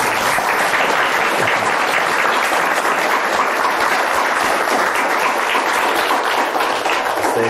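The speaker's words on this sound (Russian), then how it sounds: "Овация." Sustained, dense applause from a lecture audience after a public talk on the search for extraterrestrial life, loud and even throughout with no breaks.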